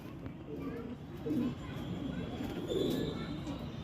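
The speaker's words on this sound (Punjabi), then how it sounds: "ਇਹ ਜੀ ਕਬੂਤਰ ਹੈਗਾ ਇਹ ਆਪਣੇ ਕੋਲ" Soft, low pigeon coos come in two short bursts, faint against a quiet background hum, with a person talking nearby.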